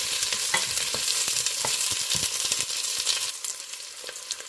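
Garlic and onion fry in a hot pan for pansit bihon, a loud, steady sizzle with scattered stirring clicks, easing slightly toward the end.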